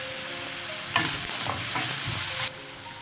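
Onion, garlic and salt sauté in a pan for Kerala chicken fry, a steady close sizzle that swells into louder stirring and scraping in the middle before easing back to a quieter fry.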